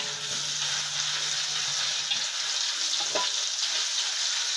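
Chili stir-frying in a wok for a morning glory dish, a dense steady sizzle close up with a faint stirring scrape, no talk.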